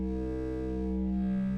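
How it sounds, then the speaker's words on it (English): A sustained, buzzing synth tone from the second oscillator of a Eurorack setup, a Make Noise DPO module, holds steady with rich stacked harmonics and a slightly distorted edge, playing alone throughout. "This is a very different sounding oscillator."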